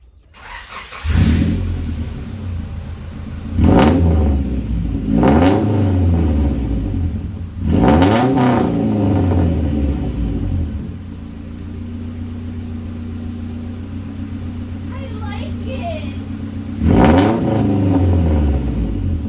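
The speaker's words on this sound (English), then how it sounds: "this is what it sounds like if it was open header" A Honda Wagon engine with an open-header, unmuffled exhaust revs loudly several times in sharp bursts, settling into a rough, rumbling idle between blips.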